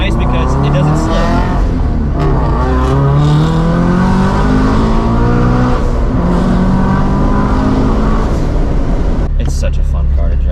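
A turbocharged FR-S pulls hard from first through third gear, its engine note loud and close as it climbs in rising revving sweeps, with brief drops at each gear change.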